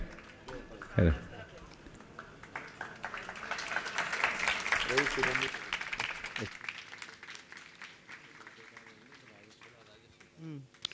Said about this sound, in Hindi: ये आप तालियां बजाइए इस बात को सुन के भी